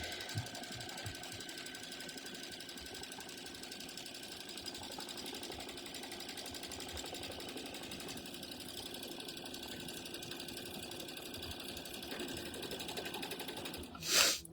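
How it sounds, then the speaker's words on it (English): A sewing machine runs a continuous basting tack-down stitch around a small pieced fall trivet block, holding a steady mechanical hum throughout before a short louder burst at the very end. "Okay, our next stitch is going to do like a basting stitch or a tack down stitch all the way around our little piece here."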